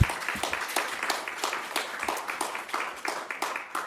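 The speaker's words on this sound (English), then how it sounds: "I'm going to give them a little clap." An audience claps steadily at an annual culture event, a moderate, even patter of many hands heard from a short distance with no voices over it.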